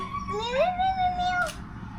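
A cat at a café gives one loud, close meow that rises and then holds a long drawn-out tone before trailing off.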